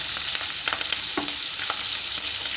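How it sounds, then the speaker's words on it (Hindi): Green chillies fry in hot oil with fennel, fenugreek and carom seeds, a loud, dense, unbroken sizzle with a few faint scrapes of stirring and no talking. "हरी मिर्चों को मैं 2 मिनट तक फ्राई करूँगी।"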